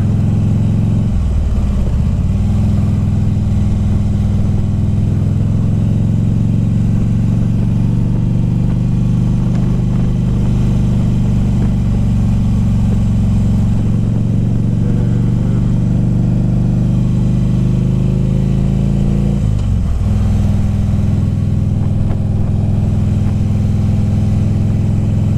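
A low engine drone runs throughout with a vehicle accelerating and revving twice, steady Sunday road traffic noise near a church letting out, close by and no talking.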